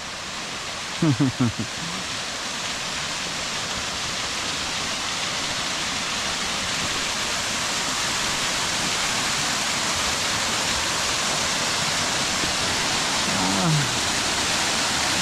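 A small waterfall on the Wairoa Dam Track in the Hunua Ranges gives a constant, even rush of falling water. Brief voices break in near the start and again near the end.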